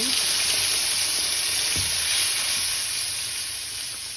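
Tomato paste sizzling as it hits hot oil with cumin seeds and asafoetida in a pan, a loud continuous hiss that fades slightly toward the end, with no talking.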